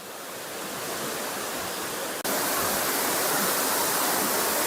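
Aruvikkachal waterfall, the highest in Kottayam, pours with a steady, dense, loud rushing roar heard up close, broken only by a momentary dip partway through.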